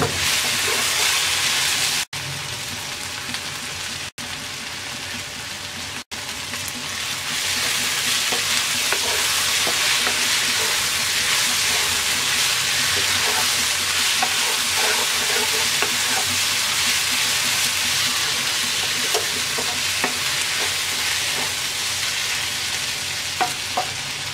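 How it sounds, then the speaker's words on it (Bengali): Aloo bhindi masala curry of okra and potato, finished with garam masala and chopped coriander, sizzles and is stirred in a pan: a dense, continuous frying hiss with scraping stirs, briefly cut three times early on, then steady, with no talk. "এবার আমরা সামান্য গরম মশলার গুঁড়া আর ধনে পাতা কুচি দিয়ে মিক্স করে নামিয়ে নেব"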